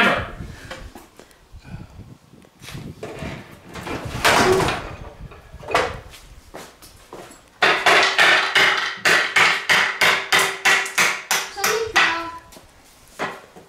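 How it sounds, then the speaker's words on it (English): Repeated metal hammer blows strike a seized brake master cylinder during a repair, a loose cluster early on followed by a fast, loud, evenly spaced series of about a dozen sharp impacts near the end. "Hammer."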